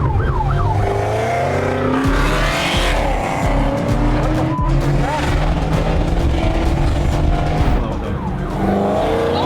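Police siren during a high-speed car chase in New York, rising and falling wails over a roaring engine and squealing tires, with excited voices reacting above the noise.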